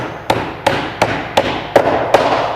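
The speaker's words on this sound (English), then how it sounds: "just tap it in" A hammer taps a dowel into cabinet hardware with six evenly spaced sharp knocks, close and loud, each with a short dull ring.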